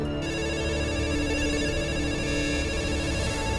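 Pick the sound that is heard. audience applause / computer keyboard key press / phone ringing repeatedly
phone ringing repeatedly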